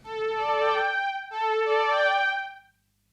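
Synthesizer notes from a MIDI sequencer played legato, one sustained tone gliding smoothly into a second pitch without a gap, clean and alone, then cutting off.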